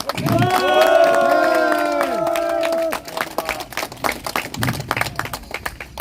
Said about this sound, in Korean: 크게 박수 한번 부탁드립니다